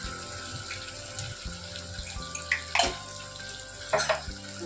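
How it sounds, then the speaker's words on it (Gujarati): Elephant foot yam (suran) being washed in water in a home kitchen, with steady running water and splashing, plus a few louder sloshes and clunks near the end. "સુરણને સારી રીતે ધોઈ લેવાનું, કારણ કે કાંકરી આવશે"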